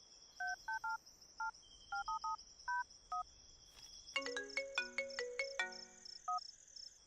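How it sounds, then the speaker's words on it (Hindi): A telephone first beeps through a string of keypad dial tones, then breaks into a ringing electronic ringtone with rapid repeated notes, close and clear against a faint steady background hum. "फोन बज रहा है, उठा क्यों नहीं रहा?"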